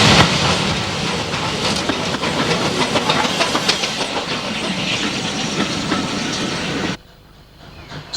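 A Spanish narrow gauge steam train climbs steeply toward Muro de Alcoy, close and loud with hissing steam, a rhythmic clatter of wheels and wagons, and an abrupt drop to quiet near the end.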